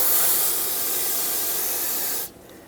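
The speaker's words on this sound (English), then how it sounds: "Use some brake parts cleaner if needed to rinse off the brake fluid." Brake parts cleaner hisses from an aerosol can onto a Ford F-350 front brake caliper in one steady, loud burst lasting about two seconds, then cuts off abruptly.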